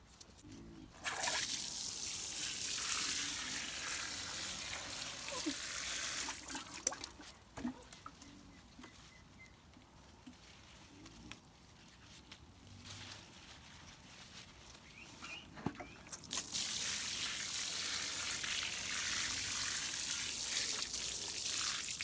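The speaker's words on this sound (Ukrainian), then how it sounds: "Зараз пролью це водою і буде дуже зручно встромляти ці череночки." Water poured into a pot of clay-heavy garden soil loosened with sand, ready for heuchera cuttings; a steady broadband pour runs in two long stretches with a quieter pause between, fairly close and with no talk.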